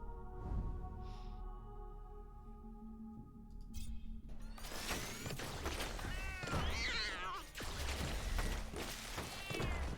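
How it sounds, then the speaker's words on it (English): Cats meow inside the roguelike game Death Must Die, several wavering cries rising over busy game music and effects in the second half, following a quieter stretch of background music. "Cats sound mean."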